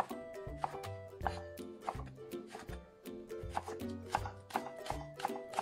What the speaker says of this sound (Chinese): 把茄子切成条